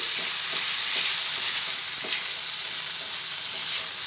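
Drained chhana (cottage cheese) fries in a pan with a constant close sizzle, broken by soft scrapes as it is stirred around, for a vegetarian ridge gourd and chhana curry.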